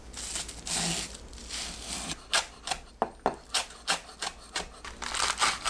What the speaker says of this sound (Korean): 파를 작게 썰어주세요.